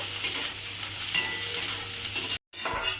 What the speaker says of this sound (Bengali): কাঁঠাল দানাগুলো একটু সময় নিয়ে ভেজে নিতে হবে।